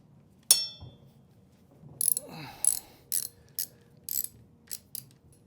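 A ratchet tightens bolts on the front wheel of a Norden 901 motorcycle: one sharp metallic clack, then several quick, close ratcheting bursts in an uneven rhythm against a quiet background.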